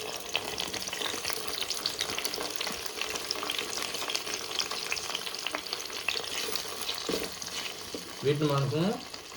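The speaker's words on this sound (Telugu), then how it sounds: "వీటిని మనం ఫ్రై చేసుకోవాలి." Chopped tomatoes and onions fry in a hot pan with a steady, close crackling sizzle that runs throughout, and a brief stirring clatter near the end.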